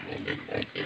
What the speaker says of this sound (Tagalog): Para sa mga baboy namin na inaalagaan.